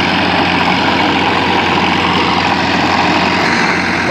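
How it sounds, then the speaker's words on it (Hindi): Massey Ferguson 241 tractor engine running during field work, a loud, steady diesel rumble that stays close and continuous with no pauses. "ये अभिषेक भाई चला रहे हैं ट्रैक्टर"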